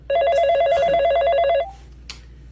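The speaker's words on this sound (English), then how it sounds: "is nobody gonna pick up the phone?" A telephone bell rings loudly in one sustained burst of rapid metallic trilling lasting about a second and a half, then stops abruptly into a quiet room.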